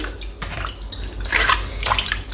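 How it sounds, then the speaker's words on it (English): An apple is washed under running tap water, a close splashing stream broken by brief drips and rubbing splashes, with no talk. "Then I wash my apple."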